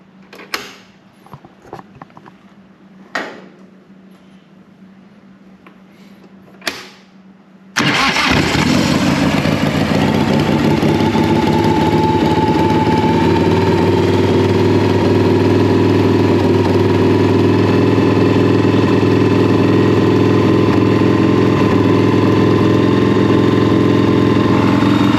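A Harley-Davidson motorcycle engine cranks and catches after a few quiet clicks, then settles into a loud, steady idle that runs on without talk, rough and constant with a faint rattle.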